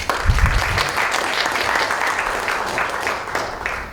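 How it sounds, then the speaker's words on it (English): Steady, dense applause from a lecture audience welcoming a speaker at a talk on Christianity and ecology, loud and close, sustained throughout without speech. "shall we welcome him with a round of applause?"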